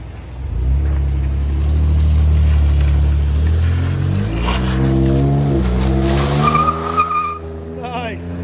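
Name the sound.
Ford F-150 3.5L EcoBoost V6 exhaust with muffler delete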